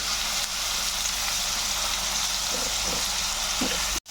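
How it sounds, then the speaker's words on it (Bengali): Onion paste sautéing in a pan while making palak paneer, a steady broadband sizzle that holds evenly throughout, close and moderately loud, with a faint utensil knock near the end. "এবার আমি পেঁয়াজ বাটাটা ঢেলে দিলাম দু মিনিট আমি একটু কষিয়ে নেব"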